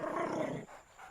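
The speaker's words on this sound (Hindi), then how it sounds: "तू क्या गुर्रा रहा है?" A bulldog growls low and rough at close range for about half a second, followed by quiet.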